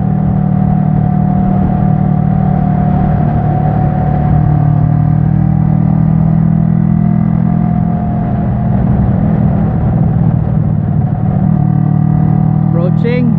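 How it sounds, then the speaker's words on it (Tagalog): A car engine hums under load while it runs through clutchless, rev-matched downshifts, starting from sixth gear as it approaches a corner. The drone is loud and sustained with some tonal shifts, and someone talks over it. "clutchless downshifts with rev matching"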